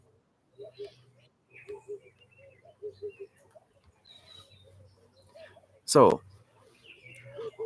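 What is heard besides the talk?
birds chirping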